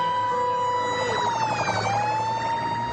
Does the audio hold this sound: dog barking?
no